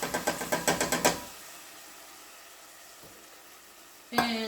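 Canned Rotel tomatoes hit a pan of softened onions and jalapenos over medium heat: a quick series of tapping knocks, then a steady soft sizzle with a sharp burst of frying near the end.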